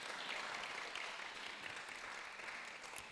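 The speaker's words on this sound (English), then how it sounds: "Please keep clapping." An audience at a community development and donation ceremony applauds in a steady, dense, distant wash of clapping, faint and continuous throughout with no voices.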